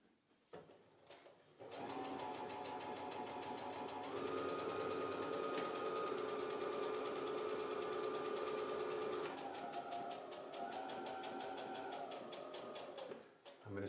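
A sewing machine stitches a double welt pocket in a long, steady mechanical whir that runs loud and close for about seven seconds, then slows and shifts pitch as it backs up a few stitches before stopping.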